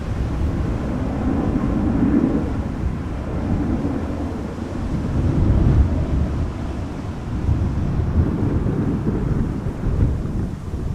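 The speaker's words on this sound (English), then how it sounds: "Probably hearing the wind when the camera is pointed in this direction" Gusty wind buffets the camera microphone at Amsterdam Schiphol Airport, a continuous low rumbling roar that swells and eases in waves throughout, loud and close with no voices.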